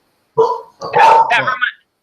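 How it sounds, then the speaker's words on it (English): Dogs barking close and loud, two short bursts of yapping barks with a brief gap between them, heard alone in an otherwise quiet indoor setting. "Excuse the dogs."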